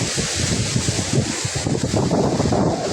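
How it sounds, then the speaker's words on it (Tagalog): Strong sea waves during the southwest monsoon, rough surf churning with heavy wind gusting against the microphone, loud and close with an uneven pulsing roar. "Malakas na yung alon. Kasi habagat na."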